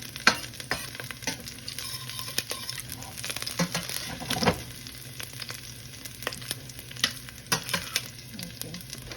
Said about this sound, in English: I'm gonna saute this garlic